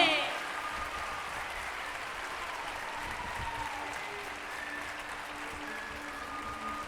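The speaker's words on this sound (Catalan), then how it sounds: "més fort aquest aplaudiment" A crowd at a primary school's end-of-year party applauds continuously, a dense wash of clapping that holds steady throughout with a faint voice near the start.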